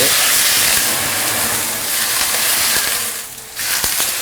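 A loud, broad hiss of water poured into a hot pan of fried eggs, steaming steadily, briefly dipping then surging again before fading.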